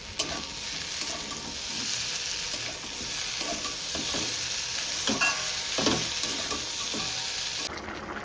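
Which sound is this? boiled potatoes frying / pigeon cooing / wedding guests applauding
boiled potatoes frying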